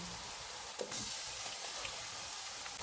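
A kilo of chicken sizzles in a pan with ginger-garlic paste for degi chicken pulao, giving a soft, steady frying hiss throughout with a few faint pops.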